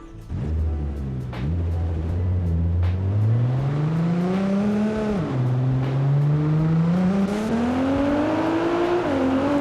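Car engine in BeamNG.drive driving through traffic, a loud continuous drone that revs up through the gears with shifts, close and steady, other traffic faintly around it.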